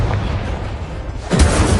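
An Incendio fire spell blast in Hogwarts Legacy erupts as a loud, booming whoosh near the end, following a steady rumbling game background.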